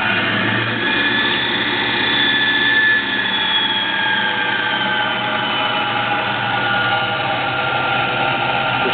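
A VECTRAX 20-inch 2 hp drill press running forward at high speed, a steady loud motor whine with a constant mechanical drone and a slight shift early on, no voices.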